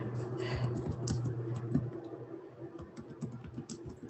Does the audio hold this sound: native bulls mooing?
no